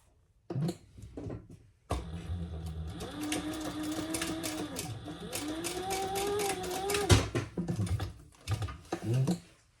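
Sewing machine stitching fabric right sides together, a sustained mechanical run with rapid needle clatter and a whining motor tone that rises and falls, bracketed by brief handling knocks and clicks at either end.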